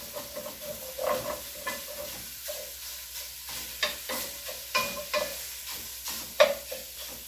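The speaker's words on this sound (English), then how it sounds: "I just threw the 2 pieces of sausage in this pot, and you just kind of chop at it." Sausage pieces sizzle in a pot while a utensil chops and scrapes at them, giving irregular sharp taps and scrapes over a soft, steady frying hiss, close and clear.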